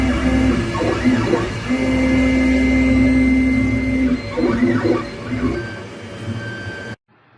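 A MakerBot Method 3D printer runs loudly and close, its motors whining and sweeping in pitch with repeated movements, then cutting off abruptly after about seven seconds.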